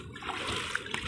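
Water splashes and sloshes steadily as someone wades across a river at Bakkhali, a continuous close churning with a couple of sharper splashes.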